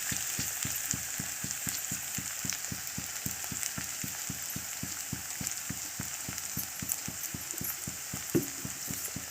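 Khichdi with crushed peanuts sautéing in a pan gives a steady frying crackle, with rapid regular scraping strokes of a spatula stirring throughout, close and moderately quiet.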